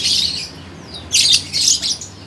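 Lovebirds letting out shrill squawks and chirps, a close, bright burst at the start, then a louder cluster of harsh overlapping calls in the second half.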